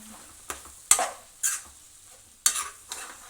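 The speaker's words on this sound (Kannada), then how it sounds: "ಇವಾಗ ನೀಟಾಗಿ ಫ್ರೈ ಮಾಡುವ." Cluster bean palya frying in a pan, with a few sharp spatula scrapes and knocks against the pan over a faint sizzle, close up and without talk.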